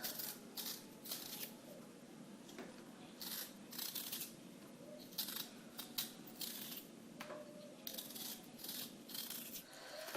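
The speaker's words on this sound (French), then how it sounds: "on commence par éplucher les pommes de terre" Potatoes being peeled by hand for stuffed potatoes, with repeated dry scraping and rasping strokes in irregular bursts, close and fairly quiet, no talking.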